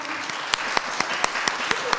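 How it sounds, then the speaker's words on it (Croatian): Applause for quiz contestants in a studio quiz show: dense clapping with sharp, evenly spaced claps standing out from the crowd noise, close and fairly loud. "Aplauza za vas, svaka čestitka"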